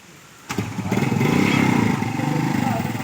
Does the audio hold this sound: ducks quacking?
no